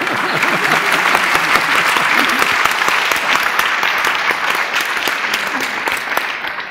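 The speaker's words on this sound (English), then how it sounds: "Why are you applauding? What are you applauding for?" An audience breaks into sustained applause during a talk on neuroscience and the self, a dense, loud wash of clapping from a full hall that holds steady for several seconds before slowly thinning.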